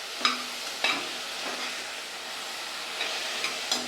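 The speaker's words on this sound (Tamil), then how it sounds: "தக்காளி சேர்த்துக்கலாம் எல்லாம் நல்லா வதக்கலாம்" Chopped tomato and spice powder sautéed in a pan for carrot rice, a steady soft sizzle broken by a few scraping stirs of the spoon, close and alone.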